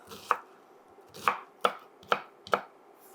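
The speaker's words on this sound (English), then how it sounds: "Turn it sideways, run my knife through, and there's our dices." A knife dices onion on a cutting board in five sharp, separate chops, close and fairly quiet, spaced unevenly over a few seconds with no talking.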